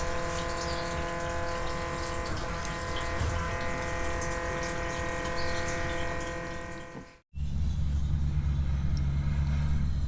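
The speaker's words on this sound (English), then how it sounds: "this is the electric fuel pump" Electric fuel pump running under the rear of a 1955 Chevy gasser, a steady whining hum with a constant tone, close by, that cuts off abruptly near the end before a lower rumble takes over.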